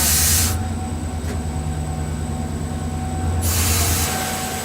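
An Algerian passenger train, once the Algiers-Casablanca Express, rolls steadily on the rails with a constant loud rumble and hiss, a higher whine appearing at the start and end, no voices.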